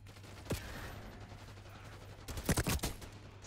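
AK rifle gunfire in the Black Ops 6 video game, with a single shot followed by a quick burst of several rounds, fairly close, over a low steady background hum.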